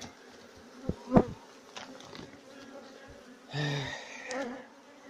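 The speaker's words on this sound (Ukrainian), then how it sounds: "Трохи непогода бджоли агресивні." Honeybees buzzing around a hive at an apiary in poor weather, a steady insect drone with a few bees zipping close past the microphone, plus faint clicks and handling noise.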